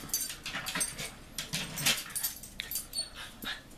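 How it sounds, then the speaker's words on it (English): A dog barks and yips repeatedly indoors in quick, uneven bursts at moderate distance, continuing throughout without pause. "hey, stop. Stop barking, please."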